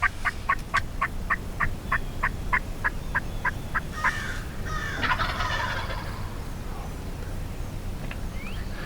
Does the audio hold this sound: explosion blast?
no